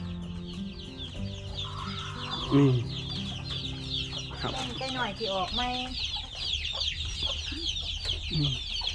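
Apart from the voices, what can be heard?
chicken clucking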